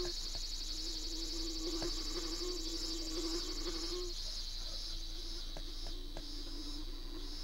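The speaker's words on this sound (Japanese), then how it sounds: "おお、蜂だ。" A bee buzzes steadily in the video game Boku no Natsuyasumi, its drone layered over a continuous background of insect and cicada calls on a summer evening, with faint ticks and no talking.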